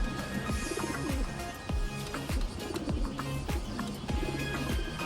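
Several racing pigeons born this year coo in low, repeated throaty calls, overlapping amid a busy, close-up background hum.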